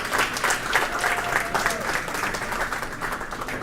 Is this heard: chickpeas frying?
no